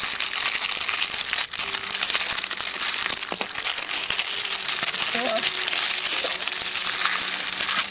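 Crisp plastic and paper packaging crinkles and rustles continuously up close while a subscription box is unboxed, with a few small knocks mixed in and no talk.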